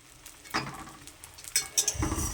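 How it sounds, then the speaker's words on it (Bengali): Egg omelette frying in oil in a pan, with a soft sizzle under scattered clinks and scrapes of a utensil against the pan, close and fairly quiet with no talking. "ডিমের অমলেটটা ভাজা হচ্ছে"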